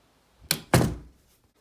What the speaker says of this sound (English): let me lock the doors